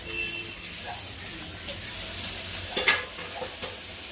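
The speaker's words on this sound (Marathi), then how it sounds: "भाजीला छान उकळी आलेली आहे" Mutton curry bubbling in a pan as it is stirred, a steady sizzling simmer with a few scraping strokes of the spoon near the end, close and moderately loud.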